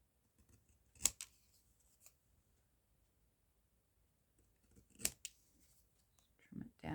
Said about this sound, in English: Trim it down a bit.